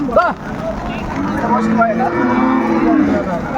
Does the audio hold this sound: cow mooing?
yes